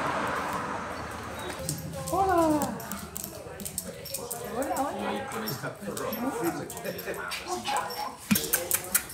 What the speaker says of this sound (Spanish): Pero si es otro perro.